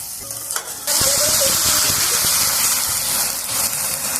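Pumpkin curry with panch phoron sautéing in plenty of oil, a quiet start that bursts into a loud, dense, hissing sizzle with crackles and stirring scrapes, steady and close, no voices.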